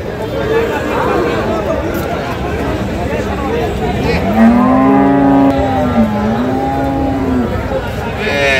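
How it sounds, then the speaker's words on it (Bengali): A dairy cow gives a long, loud moo in the middle of a busy outdoor livestock market at Kaharol, with a steady babble of crowd voices and chatter underneath. "কাহারোল হাটে যে গাভী গরুগুলো ক্রয় বিক্রয় করা হচ্ছে"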